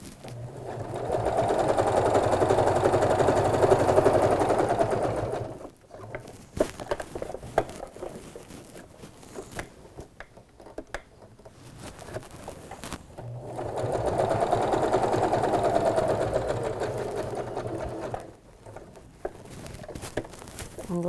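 A sewing machine stitches fabric for a sleepover bag in two long, steady runs with a quiet pause between them, close and clear, with handling noise in the gap.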